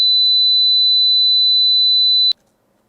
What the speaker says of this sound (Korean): 그 다음에 4kHz 신호 한번 들어보겠습니다.